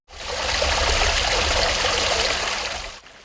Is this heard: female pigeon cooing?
no